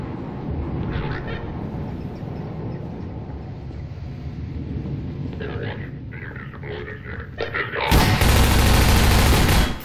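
Half-Life 2 firefight on Highway 17 with a shotgun, heard as a continuous busy rumble of distant shots under a man's speech, then a loud close blast near the end.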